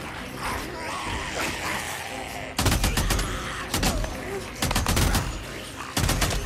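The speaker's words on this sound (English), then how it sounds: "And that is why we picked up this big gun." A big gun fires in Days Gone during a hectic fight, several loud, close, repeated bursts of shots breaking through a noisy background of game ambience.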